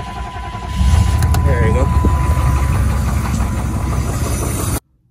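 A 6.5L diesel truck engine with a faulty glow plug relay cranks and settles into a steady low rumbling idle close by, continuing until it cuts off abruptly, with someone speaking briefly over it.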